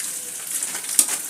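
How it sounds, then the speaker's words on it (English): Cold tap water running over cooked spaghetti in a colander, a steady hissing rush with a soft knock near the end, close and alone. "under running cold water"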